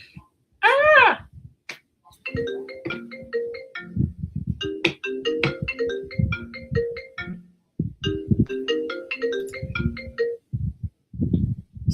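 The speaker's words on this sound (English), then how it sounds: "Did you guys hear my phone ring?" A mobile phone ringtone plays a repeating melodic pattern of electronic tones in bursts over several seconds, punctuated by a sharp sweeping chime near the start and intermittent thumps and a speaking voice in between.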